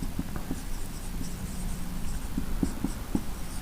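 Handwriting on paper while working out a matrix, with steady faint scratching strokes and a few sharper taps and dots near the end, no speech over it.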